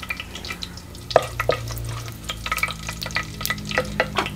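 Whole spices such as bay leaf, cloves, cinnamon, pepper, cumin and star anise sizzle in hot oil in a clay pot over a wood fire, with a spoon stirring and scraping in repeated strokes, close and steady.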